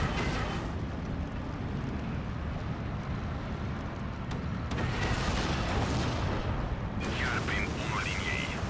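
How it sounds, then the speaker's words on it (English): PTRD anti-tank rifles firing in the Steel Division 2 video game amid constant loud battle rumble, with sharp cracks and booms scattered through the din and a voice talking over it. "You can hear the PTRDs firing on all sides of this guy"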